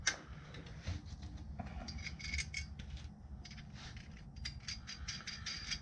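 Faint metallic clicks and ratcheting ticks as a temporary bolt is tightened by hand, irregular taps and small mechanical rattles over a low background hum, no talking.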